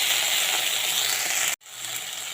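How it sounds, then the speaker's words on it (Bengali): Capsicum lightly frying with onion in a pan for chilli potato, a steady bright sizzle that cuts out abruptly for a moment and then resumes, softer, with no talk. "আর ক্যাপসিকামটা দিয়ে দিচ্ছি আর হালকা করে ভেজে নেব"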